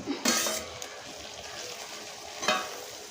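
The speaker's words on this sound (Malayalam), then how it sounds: "ചട്ടുകം കൊണ്ട് നന്നായി മിക്സ് ചെയ്യണം." Rava semiya upma is stirred in a pan with a spatula, giving a faint, steady sizzle with two sharper scraping clinks of metal against the pan, close and quiet.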